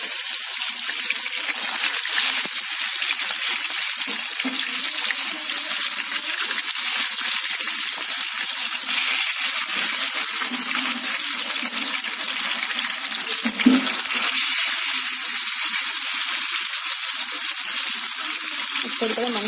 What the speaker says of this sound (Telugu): ఇలాగా మనం లాలీపాప్స్ని మంచి రోస్ట్ గోల్డెన్ బ్రౌన్ కలర్లో వచ్చినట్టు మనం ఫ్రై చేసుకున్నాం.